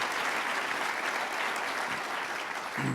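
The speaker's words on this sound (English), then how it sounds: "a round of applause for Dan Twining" A room full of people at the IRI Freedom Award 2024 gala applauds Dan Twining, a dense, steady round of clapping that holds loud and even for the full three seconds with no voices over it.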